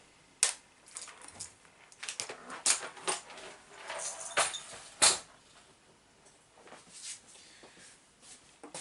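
Hands opening the plastic central gearbox of an E-Revo RC car, a series of close, sharp plastic clicks, snaps and rattles spaced irregularly over quiet background.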